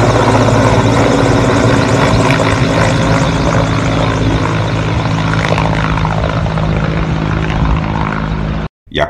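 A firefighting helicopter works over a forest fire, its engine and rotor roar loud, close and steady for several seconds before cutting out abruptly near the end.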